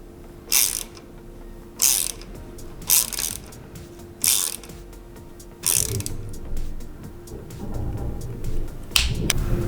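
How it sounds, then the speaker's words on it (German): Ratcheting clicks from a torque wrench set to 5 Nm as four screws are tightened on a bicycle pannier rack's frame adapter; bursts of rapid clicking come in separate runs, close and fairly loud, with no talk. "Wir stellen unseren Drehmomentschlüssel auf 5 Newtonmeter ein und ziehen die 4 Schrauben am Rahmenadapter mit 5 Newtonmeter fest"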